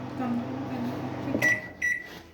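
A Samsung microwave oven hums steadily, then gives two short electronic beeps as the grill timer starts, with a voice speaking over it.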